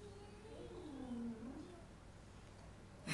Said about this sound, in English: That's a meow.